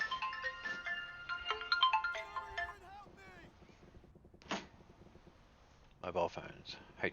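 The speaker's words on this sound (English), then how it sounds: "Phone's going off." A mobile phone ringtone plays loudly for nearly three seconds as a melodic, tonal pattern, then fades, with a second burst near the end; someone speaks in between over a computer demonstration.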